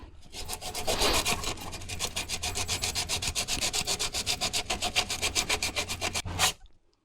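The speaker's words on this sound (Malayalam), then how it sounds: "ക്ലീൻ ചെയ്യാനായിട്ട് ഞാനിപ്പോൾ ഉപയോഗിക്കുന്നത് 80 പേപ്പറാണ്" A brake drum from a rear brake service is scrubbed with 80-grit sandpaper in fast, steady back-and-forth strokes, loud and close with no talk, until the rubbing stops abruptly near the end.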